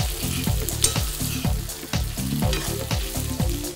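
Cumin potatoes (jeera aloo) tossed in hot oil in a pan, sizzling steadily with stirring, heard close under rhythmic background music.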